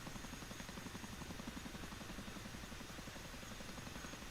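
A Chinook helicopter in the DCS simulator rolls a few feet forward on its wheels, its rotor drone a steady, faint, evenly pulsing whir with no change in pitch.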